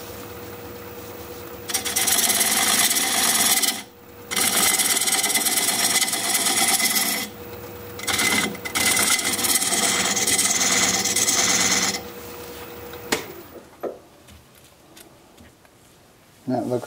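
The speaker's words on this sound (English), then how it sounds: "I'm going to use this diamond point tool," Wood turning on a lathe, a diamond point tool squaring up the sides of a tenon on a broken workpiece, gives loud gritty cutting bursts lasting a few seconds each, separated by short pauses, then a quieter trailing stretch with light clatter.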